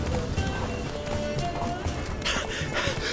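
Roach the horse gallops in The Witcher 3, with a steady clip-clop of hooves throughout over a continuous bed of game ambience and music.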